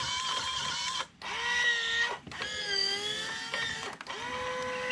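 An electric cigarette rolling machine fills tobacco tubes in repeated cycles, each a whirring, whining motor run of about a second broken by short pauses and clicks, close and fairly quiet.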